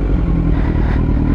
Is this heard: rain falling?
no